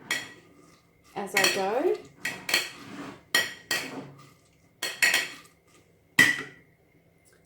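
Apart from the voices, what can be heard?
washing down a potato masher in a bowl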